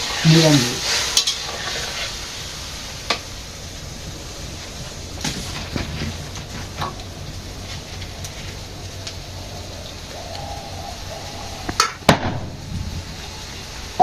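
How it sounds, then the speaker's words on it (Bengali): Vegetable curry of cauliflower, potato and eggplant cooking in a village kitchen, soft sizzling and frying under scattered stirring clanks and scrapes of a utensil, fairly close. "চাষি তরকারি রান্না করতেছে ফুলকপি আলু আর হচ্ছে বেগুন"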